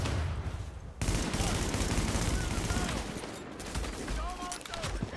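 Dense, rapid gunfire fills a video game battle, a chaotic fusillade of overlapping shots rattling on throughout, with a voice talking underneath.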